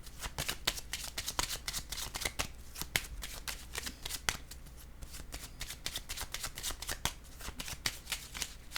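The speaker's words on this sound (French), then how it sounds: "Je vais piger une autre carte pour ces deux-là." Playing cards are riffled and shuffled repeatedly at close range, a quiet run of crisp flutters and snaps with small pauses in between.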